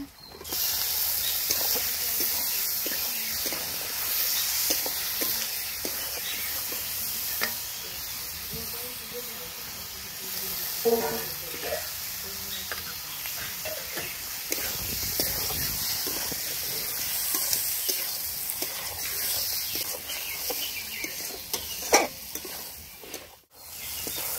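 Chicken fries in a pan for a village-style Bengali chicken curry, a loud, steady sizzle and hiss that runs throughout, broken by occasional scraping and clinks as it is stirred.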